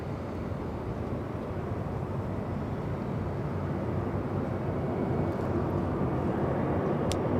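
A JetBlue Airbus A321 jet airliner arriving from Boston at Los Angeles International Airport roars as a steady, loud, broadband engine rumble that builds slightly over several seconds.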